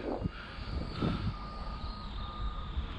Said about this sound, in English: that gear train sounds a bit harsh